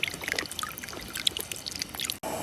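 Dark soy sauce trickles from a bottle into a pot of large pork bones and water, a brief, light pouring dribble that cuts off near the end.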